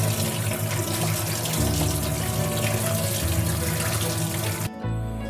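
Tap water runs steadily into a sink while amla (Indian gooseberries) are washed for pickle, a loud continuous splashing stream that shifts briefly near the end.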